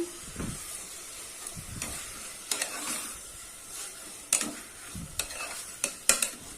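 Tomatoes sauté in a pan for a vegetable rice dish, giving a soft sizzle punctuated by repeated clanking stirs and scrapes of a spoon against the pan, getting busier toward the end.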